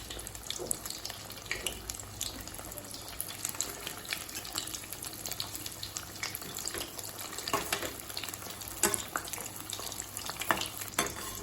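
Steady crackling sizzle of paneer frying in hot oil, with dense pops and occasional stirring scrapes throughout.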